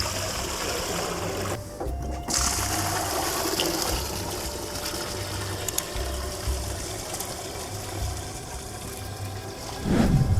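Water drains and swirls out of a basin after the plug is pulled, a continuous gurgling rush with faint mechanical clicking, ending in a louder slurp as it empties.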